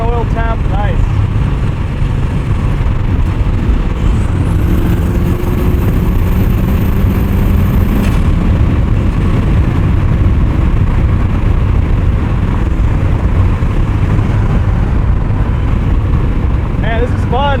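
Built turbocharged 1991 Mazda Miata race car driving on track, a steady loud engine drone with road and wind noise from inside the cabin, continuous and close throughout.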